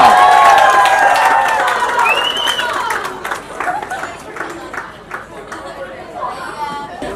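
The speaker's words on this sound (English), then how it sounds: "let's all cheer again for Olivia Tams and Ellie Porella" Guests at an evening garden party cheer and clap loudly at first, the cheering fading over a few seconds into a general crowd murmur and scattered voices.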